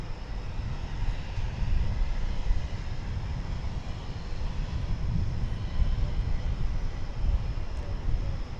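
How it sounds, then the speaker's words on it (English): An American Airlines Airbus A320 landing at DFW Airport, a steady low jet-engine rumble and roar that swells and lingers at moderate distance, with no talking. "That was American Flight 304 coming in from Birmingham. It was an Airbus A320."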